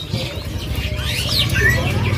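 Aviary birds for sale at the Pramuka bird market chirp and tweet in quick high calls over a steady low hum, fairly close and continuous.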